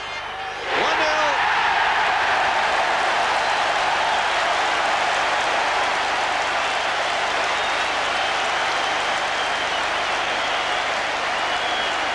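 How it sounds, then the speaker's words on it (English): Dense, steady applause and crowd roar from the Stretford End at Old Trafford as Manchester United score a penalty against Spurs in a 1987/88 First Division match, a broad wash of distant noise under a commentator's voice. "Applause from the Stretford end as McClair made no mistake from the spot"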